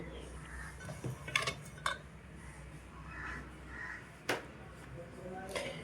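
Cooked, cooled rice being served onto a plate, with a few soft clinks and scrapes of a serving spoon, a quiet voice talking over a low domestic background, and a crow cawing faintly outside.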